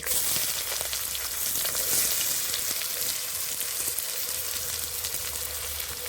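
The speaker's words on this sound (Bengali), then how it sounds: "পেঁয়াজটা ভালো করে ভেজে নেব ভেজে নিয়েছি" Chopped onion frying in a pan with whole dried red chillies, whole garam masala and cumin seeds, a steady loud sizzle with light stirring scrapes throughout, no voices.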